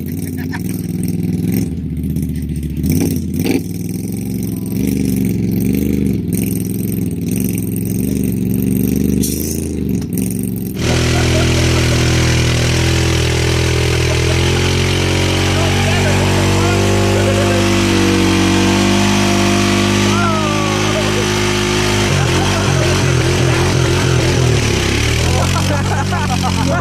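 A Honda engine with no dipstick runs loud and close, idling rough then revving, while people talk over it.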